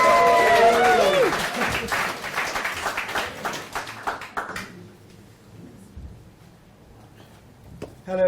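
Audience applause at a startup pitch event in London, a loud burst of clapping that thins out and fades to near quiet, with a brief voice over the start.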